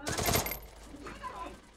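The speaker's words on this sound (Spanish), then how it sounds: "Uy, ahí disparé." Gunfire in the Free Fire video game, a rapid burst of automatic shots at the start that drops away into a quieter tail with faint game sounds, with a voice speaking over it.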